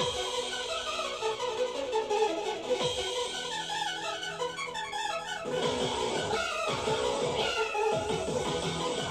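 Cats meow in the PSP game Soreyuke! Burunyanman, a string of drawn-out meows and caterwauls over electronic game music, loud and repeated, with no talking.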